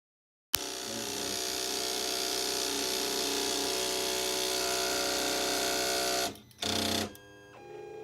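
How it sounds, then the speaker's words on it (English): A Prusa i3 3D printer auto-homing, its stepper motors giving a steady mechanical whir and hum for several seconds, then cutting out briefly and resuming in short bursts, close and fairly quiet. "It's auto homing it."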